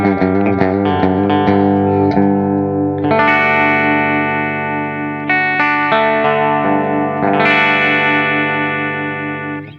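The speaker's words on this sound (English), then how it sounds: "Let's go to the bridge. Let's see if we can kind of approximate a little bit of a telly style," Electric guitar played through the bridge pickup of a P90-and-humbucker instrument, dialed toward a bright Telecaster-style twang. Clean, sustained chords ring out in three strummed phrases with a quick run of picked notes at the start, and no talking.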